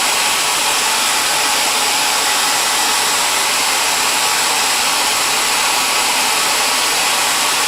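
Loud, constant rushing hum of a hair dryer heating the edges of carbon fiber wrap on unicycle pedals, unbroken from start to finish and heard alone.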